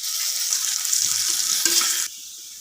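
Curry leaves, green chillies and garlic-ginger paste fry in oil while being stirred, giving a loud, steady close-up sizzle with scraping stir sounds. The sizzle drops off abruptly near the end.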